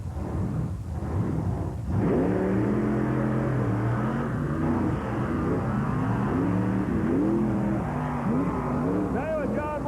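A 1991 Ford truck and a Chevrolet truck rev and launch at a drag racing start line, engines roaring loudly with rising, shifting pitch, while an announcer talks over the noise.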